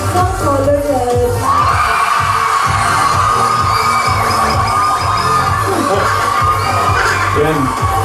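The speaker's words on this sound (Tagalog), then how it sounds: "Ito naman ang sigaw ng color red." Studio audience on a noontime variety show shouting and cheering as the red team, a loud sustained crowd roar with children's voices mixed in, dense and continuous throughout.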